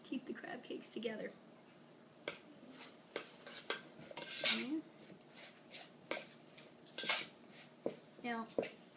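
Crab cake mixture being mixed in a bowl, with repeated clinks and scrapes of a utensil against the bowl, irregular and close, while a person talks throughout.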